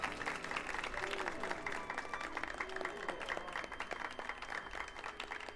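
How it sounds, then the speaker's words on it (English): Characters clap at a banquet in Final Fantasy XIV, producing soft, quiet, crowd-like applause set low in the mix over a faint background tone. "Very natural clapping."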